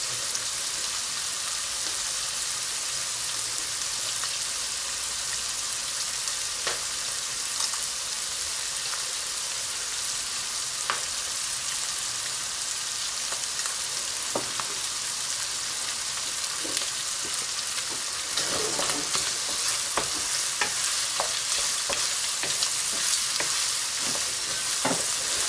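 Squid sizzles and fries in a pan, a continuous close hiss with scattered pops and crackles throughout and occasional stirring clicks, no voices.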